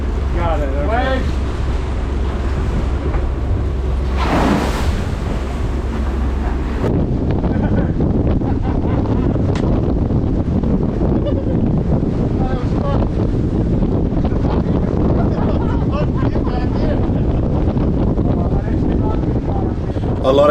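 Gale-force wind of 40 knots roars and buffets the microphone on a sailboat in Croatian winter seas, with waves rushing and crashing continuously; the blast is loud throughout, and a voice speaks briefly under the noise.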